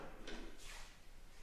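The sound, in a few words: coat closet door opening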